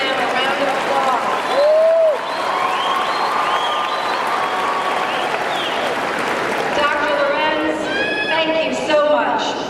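Audience applause at a 2014 commencement ceremony, a broad wash of clapping running throughout with a voice speaking over it, along with some whistles or cheers toward the end.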